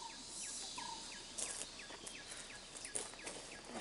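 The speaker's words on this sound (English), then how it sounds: "Cicada is a common insect locally known as jinkari in Odisha, do buzzing sound and usually associated with tree." Insects in a forest in Odisha trill in a steady, high, dense buzz with regular chirping pulses over low rustling background noise, faint and continuous throughout.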